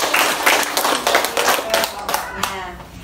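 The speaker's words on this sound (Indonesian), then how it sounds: "Kalau tidak ada, tepuk tangan sekali lagi." Students in a classroom clap for their classmates' group presentation, a fairly loud, close burst of many hands clapping together that fades out after a few seconds.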